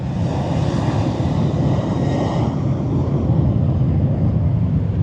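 A Ryanair airliner's engines power up for takeoff in a loud, steady roar with broadband rushing, close and continuous throughout, with no talk.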